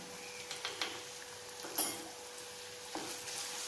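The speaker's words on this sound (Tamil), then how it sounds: "இப்போ நல்லா வதக்கணும்" Banana stem sautéing in a pan with tempering and asafoetida makes a faint, steady sizzle, broken by a few soft scrapes and taps from stirring, with no talking.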